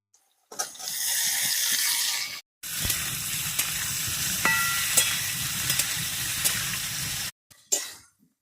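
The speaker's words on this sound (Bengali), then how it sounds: "তাই এবার আমি দিয়ে দেবো ফুলকপিগুলো" Cauliflower, capsicum and carrot fry in a pan with a steady, loud sizzle that breaks off briefly twice, with faint stirring scrapes throughout.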